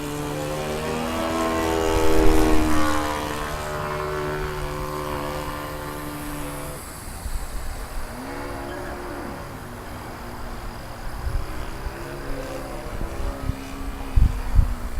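Giant Stik RC airplane with a Saito 80 engine flying outdoors, its buzzing engine rising and fading as it passes at a distance, with wind noise and some handling sounds.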